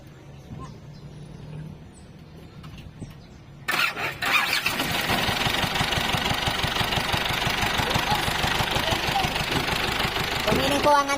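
An engine cranks and catches after a quiet pause, then keeps running with a steady, rough mid-pitched idle and a faint knocking pulse, close by and loud until the end.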